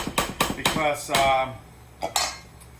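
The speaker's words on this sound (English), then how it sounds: "So you could fold with a whisk" A whisk folding chocolate mousse cream, with a run of quick metallic clinks and taps against a bowl, several close clattering strokes followed by a pause and two more taps.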